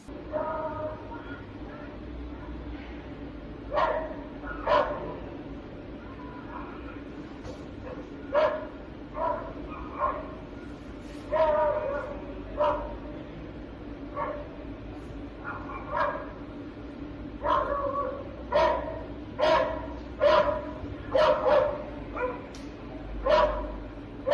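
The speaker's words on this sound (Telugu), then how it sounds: "ఓ వృద్ధురాలిపై వీధి కుక్కలు దాడి చేశాయి." Street dogs bark repeatedly in short bursts, some sharp yips and overlapping barks, moderately close, over a constant low background hum.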